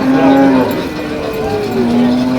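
A cow at a busy cattle market for Holstein Friesian dairy cows in Comilla lets out a loud, drawn-out moo, with a second lowing call overlapping and crowd noise behind.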